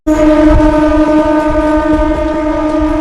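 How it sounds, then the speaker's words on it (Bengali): Two Bardhaman–Katwa local trains crossing side by side at Balgona railway station give a loud, sustained horn-like tone with steady harmonics over rumbling rail noise, starting abruptly and holding for about three seconds. "বর্ধমান কাটোয়া দুটো পিএম লোকাল পাশাপাশি ক্রসিং বলগোনা রেল স্টেশনে"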